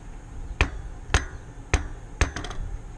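A bike tire fitted with a Tannus Armour insert bounces on concrete, making four sharp, hollow thuds at roughly half-second intervals, followed by a quicker cluster of lighter taps, close up with no talking.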